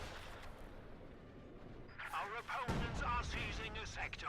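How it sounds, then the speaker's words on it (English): In Company of Heroes 2, a rifle grenade hits in the middle of a battle. It gives a sharp burst with a rumbling tail over steady background gunfire and battle noise, and a voice talks faintly underneath. "probably a rifle grenade. Yes, rifle grenade."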